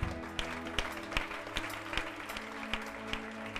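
A church congregation at a deliverance service claps steadily in a quick, even rhythm, a dense crowd of hands heard at moderate distance with no clear cheering.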